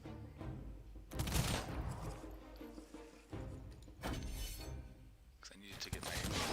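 Musket volleys crack in the strategy video game Humankind, with three loud bursts of massed gunfire separated by quieter battlefield noise.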